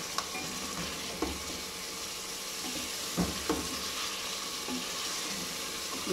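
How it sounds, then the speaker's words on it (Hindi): Chicken pieces sizzle and fry in masala in a cooking pot, a steady crackling hiss broken by a few scraping stirs of a spoon, close and without talk. "हम चिकन भून रही है"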